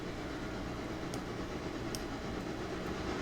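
A long freight train rolls along in the Railroader video game, a steady broad rumble and hiss with a few faint, distant rail clacks.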